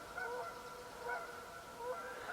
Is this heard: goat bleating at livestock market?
no